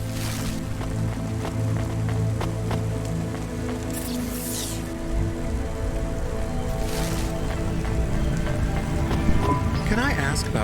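Steady rain falls on surfaces in a rainy city scene from the video game Cloudpunk, a constant hiss layered with low humming machinery and a few brief swells, continuing throughout without any talk.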